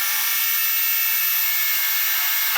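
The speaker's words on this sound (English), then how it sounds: "want to drill one tiny hole" A drill bores one tiny hole in sheet metal on a 1974 Dodge Charger door, a steady high whine that runs close and unbroken through the whole stretch.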